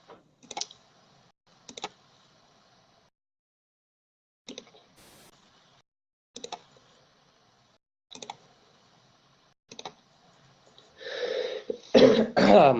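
Several short, separate clicks or coughs spaced a second or two apart, followed by a louder, broadband burst of throat clearing and coughing at the end. Heard up close in a quiet room with no speech.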